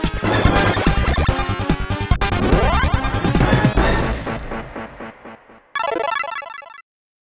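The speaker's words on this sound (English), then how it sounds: "mix and match to your heart's content to get the ultimate perfect arcade shmup sound" A rapid, noisy barrage of retro electronic game effects: laser zaps, explosions and descending blips, ending with a bright warbling chime before silence.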